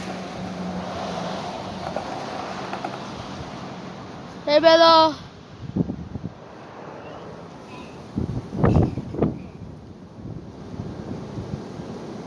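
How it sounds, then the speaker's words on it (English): Strong wind buffeting a microphone outdoors on a windy day, a steady low rumble with gusts, while a person speaks briefly and scattered knocks and handling sounds occur. "It's really windy."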